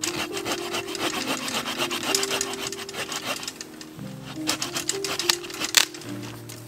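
A saw works back and forth through the trunk of a young tree being cut off for a bird photography perch, a close, steady rasping and rubbing with a low hum running underneath, and no talking.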